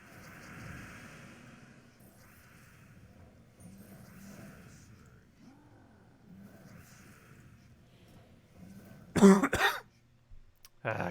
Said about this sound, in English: Cough, go away.